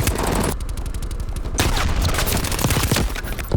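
Rapid automatic gunfire in the video game Call of Duty Black Ops Cold War, dense bursts of close shots with a brief lull before firing resumes.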